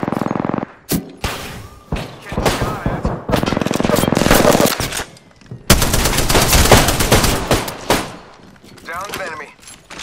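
Rapid automatic gunfire bursts in the Apex Legends video game, loud and close, with short pauses between volleys and a few thuds.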